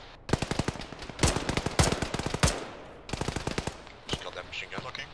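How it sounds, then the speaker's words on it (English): Bursts of machine gun fire in the Arma combat game, several rapid rattling volleys of sharp shots with short pauses between them, close and loud, followed by a few scattered single shots. "Killed the machine gun that was shooting at us"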